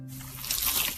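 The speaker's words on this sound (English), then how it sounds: "Is that the sound of an ooey gooey cheesy crunchy slice of P-I-Z-Z-A?" Teeth bite into a crunchy, cheesy slice of pizza, making a short, quiet, wet crackle and tear that lasts about half a second, with nothing else heard.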